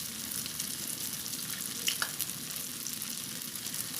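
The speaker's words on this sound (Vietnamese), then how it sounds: "Các bạn nó chiên nó vàng hết ha" Fresh tofu skin fries golden in hot oil, a steady close sizzle and crackle with a few sharper pops, alone with no talk.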